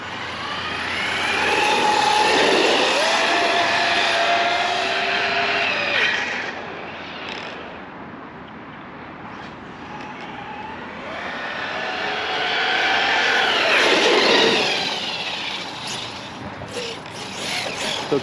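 Redcat Machete 6S RC car making a high-speed run, a loud electric motor whine with tire roar that swells as it passes close, fades in the middle, then surges again on acceleration.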